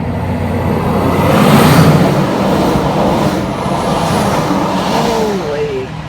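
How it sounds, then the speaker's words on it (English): A 68-tonne triple road train truck passes by, a loud continuous engine and tyre roar swelling and holding steady over several seconds as it goes past close up. "And in case you're wondering what a 68 tonner sounds like,"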